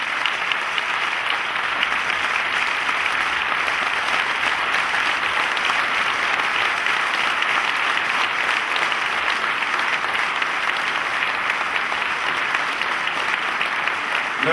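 A large church general assembly in Congo applauds participants and delegates from Brazzaville, dense sustained clapping from a big crowd filling the room, loud and even from start to finish with no speech over it.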